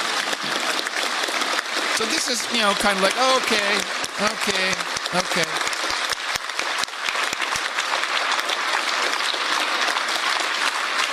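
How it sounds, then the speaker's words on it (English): Parliamentary members rise in a standing ovation, sustained dense clapping from a large crowd filling the whole stretch, with a voice talking over it early on. "they cut to the parliamentary members, and there's a whole bunch more of them, standing ovation"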